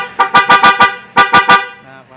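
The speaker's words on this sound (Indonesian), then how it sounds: "Lalu kita tes klakson." A motorcycle horn being tested honks in quick repeated beeps, four short toots, a pause, then three more, loud and close, fading to a softer tone at the end.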